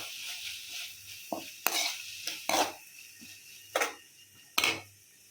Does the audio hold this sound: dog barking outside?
no